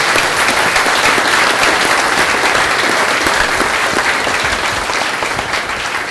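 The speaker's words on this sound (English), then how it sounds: "So I want to give a round of applause to this family." Loud, dense applause from a crowd at a congressional town hall on Oahu, continuous clapping close and full throughout, tapering slightly at the end, no voices.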